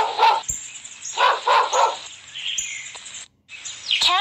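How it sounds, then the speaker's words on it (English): A dog barks in short, loud bursts: one at the start, then a quick run of three, with birds chirping and tweeting steadily in the background throughout. "Dog."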